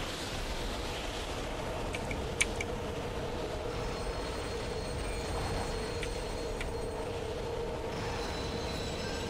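A train in Dead Space 2 rumbles steadily throughout, a continuous heavy rolling drone with faint squeals and metallic ticks on top, no voices.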